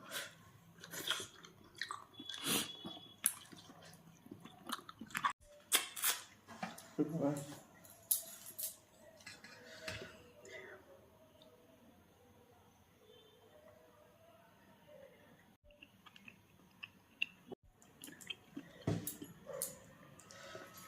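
Someone eating a Sunday thali meal of rice and cooked meat by hand, close, moist chewing and smacking in irregular bursts, with quiet stretches and occasional louder clicks.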